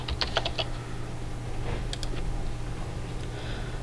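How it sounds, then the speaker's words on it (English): Typing on a computer keyboard, a quick run of key clicks followed by a few scattered taps later on, fairly faint over a steady background hum, with no one talking. "We're gonna type in parental advisory... sticker."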